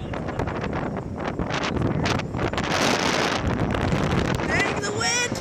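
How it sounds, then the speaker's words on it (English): Strong wind buffets the microphone at an airport plane-spotting spot, a constant loud rumbling roar that fills the whole clip, with a faint whistling tone near the end. "Dang the wind."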